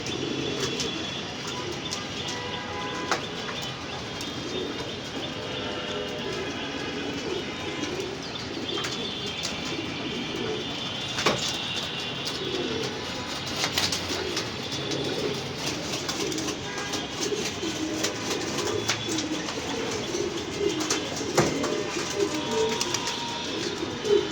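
Racing pigeons coo and call continuously around a loft, a dense layered murmur with scattered chirps and sharp clicks throughout, and no talk.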